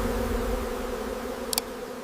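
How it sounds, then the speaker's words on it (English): A swarm of angry bees defends a wild honey hive hidden in a tree trunk, a dense, steady buzzing hum with a short sharp click near the end. "tens of thousands of angry bees defend it"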